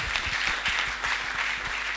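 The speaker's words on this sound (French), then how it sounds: "Est-ce qu'on peut recommencer avec les acclamations?" A crowd at a youth conference gathering in Goma claps and cheers together, a dense and sustained burst of applause with no voices standing out.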